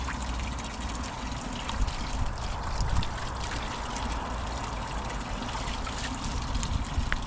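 Water flowing beside the Monsal Trail in the Peak District, a continuous close trickle and babble of a stream that stays steady throughout, with no talking.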